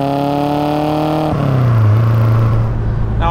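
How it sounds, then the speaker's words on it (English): A 1975 Ford Escort RS2000 engine with uprated twin carburettors revs loud and close, holding a strong steady note before the revs drop away into a lower, rougher rumble. No voices are heard. "those uprated twin carbs sound awesome. That's a proper old school noise."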